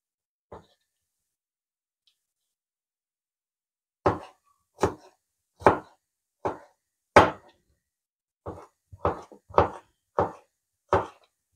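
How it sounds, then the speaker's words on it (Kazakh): A knife slices a cucumber diagonally into long strips for a glass-noodle salad, striking a cutting board. One lone chop comes first, then after a pause about ten crisp, close chops fall in a steady rhythm, with no voices. "Ұзыншалап турау үшін, қиярымыз ұзын болу үшін осылай қиғаштап тураймыз."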